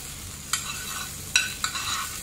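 A sautéed mixture of green chilli, ginger and curry leaves goes into jowar flour appe batter, with three quick scraping stirs over a faint sizzling hiss.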